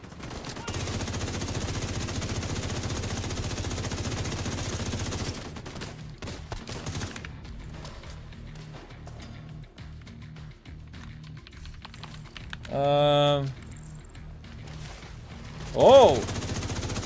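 Rapid automatic gunfire rattles steadily for several seconds in The Division 2, then gives way to sparse shots, a harsh burst and a final sharp blast.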